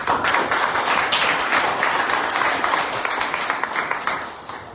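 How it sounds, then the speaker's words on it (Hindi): A congregation at a Sunday evening prayer service claps to welcome a newcomer, producing a steady burst of close, dense hand claps that tapers off near the end. "आपके भाई चाहेंगे कि आप सब लोगों का तालियों से स्वागत करें।"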